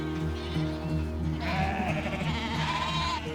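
Several sheep bleat repeatedly over a low droning background while being gathered to move to the mountains, the calls overlapping at close to moderate distance.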